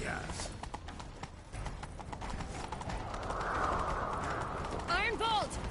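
A horse gallops with a steady, rapid clip-clop of hooves in the Witcher 3 video game, set against ambient wind, ending in a whinny; voices are faintly present.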